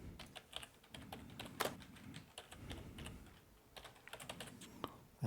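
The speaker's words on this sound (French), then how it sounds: "on va taper un texte" Computer keyboard typing while entering text during an AutoCAD 2010 drafting session: close, uneven bursts of key clicks with short pauses between runs, steady and moderately loud with no talking.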